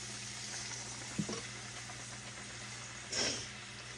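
Fried apple pies cook in hot grease, giving a steady close sizzle and bubbling with a couple of brief louder crackles and clinks, no speech.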